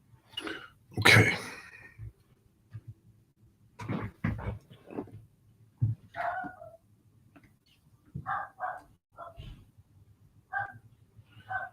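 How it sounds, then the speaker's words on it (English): A dog barks in short, irregular bursts, close and fairly loud, with gaps of quiet between the yips and no talking over them. "My dog's so annoying sometimes."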